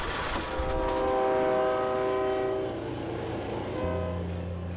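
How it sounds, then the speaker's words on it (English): A Mt Hood Scenic Railroad train running on its route toward the farming community of Parkdale: a loud, steady, close rumble with sustained horn tones sounding over the rolling noise. "as the train worked its way up to the farming community of Parkdale"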